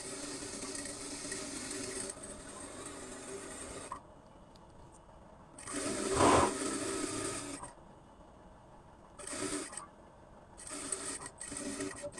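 A sewing machine hems palazzo skirt fabric in several separate runs, starting slowly and building, close by, with quiet gaps between the bursts of stitching.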